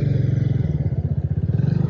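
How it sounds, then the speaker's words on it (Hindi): Motorcycle engine running close by on an unpaved dirt road near a waterfall in Ramnagar, Jammu and Kashmir, giving a steady low pulsing throb with some clatter throughout. "मोटरसाइकिल है या फाइटर"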